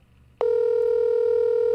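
A telephone ringback tone sounds on a prank call at an open mic comedy night. After a brief murmur of quiet background, one steady electronic tone starts abruptly and holds unbroken, loud and clear.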